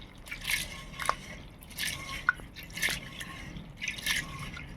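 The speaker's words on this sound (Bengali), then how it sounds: "জলটা দিচ্ছি। ভালো করে চটকে ডালটা ধুতে হবে।" Water trickles and drips over red lentils being washed in a bowl by hand, with soft splashes and squishy sloshing that come in irregular bursts at close range, quiet and without any talk.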